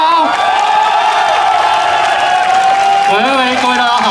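A crowd at an outdoor scooter riders' traffic rally cheers and claps continuously. The sound is loud and dense, with an amplified voice or tonal sound running over it.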